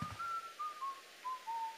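Luigi whistles the tune in the Luigi's Mansion video game, a faint, thin melodic whistle of several gently falling sustained notes, heard alone.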